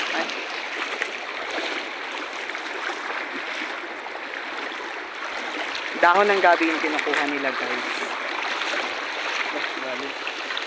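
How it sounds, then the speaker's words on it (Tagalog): Water of a deep river being crossed on foot, a steady rushing and splashing flow running throughout, with people talking and a voice rising over it partway through. "Tawid na naman kami ng ilog."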